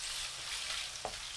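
Half a pound of ground beef stir-frying with eggplant in a pan over medium heat, a steady close sizzle with one faint soft clack near the end.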